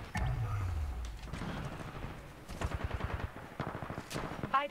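Rapid bursts of gunfire in the Titanfall 2 video game, repeated close volleys with a low rumble early on, with no talk over them.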